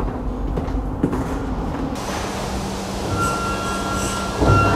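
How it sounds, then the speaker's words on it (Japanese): Tokyo Metro Namboku Line train arriving at Akabane-iwabuchi station, a steady rumbling rush of the approaching train that swells slightly toward the end, with a faint tone in the station background. "The ExpressBound for Emina is arriving at track 2."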